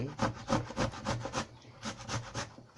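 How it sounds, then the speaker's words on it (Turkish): Tomatoes halved and rubbed back and forth on a hand grater, giving rhythmic wet rasping strokes, about eight to ten in quick succession, close and fairly loud with no talking. "Domatesleri rendelemeye başlayalım."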